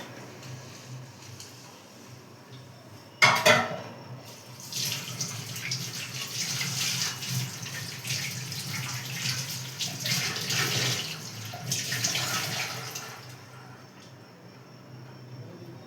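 Dishes being washed under a running kitchen tap: water gushes in steady bursts with a sharp clatter early on, then flows on and off before tapering, with no talking.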